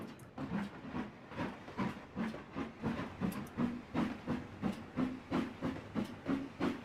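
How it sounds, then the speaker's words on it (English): A Chesapeake and Ohio steam locomotive on a coal run in the Trainz game chuffs in a steady, evenly spaced rhythm of about two beats per second, each exhaust blast wrapped in hissing steam. "this does sound better than the Chesapeake and Ohio engines that we've heard from Trainz"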